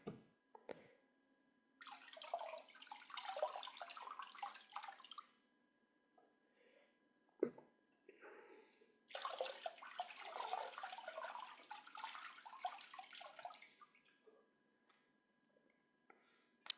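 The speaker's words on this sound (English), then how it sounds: "slowly remove our feet from the water and rinse our feet with our water" Water splashing and dripping as feet are lifted out of a footbath and rinsed during a Sahaja Yoga foot soak, two longer bursts of trickling and sloshing close by, with a sharp knock between them and quiet gaps.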